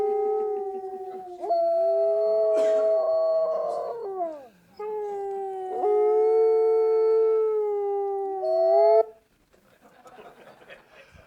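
Sled dogs at an Iditarod race checkpoint howl in long, sustained, wavering tones, several voices overlapping in close chorus with brief breaks between rounds before trailing off into quieter noise.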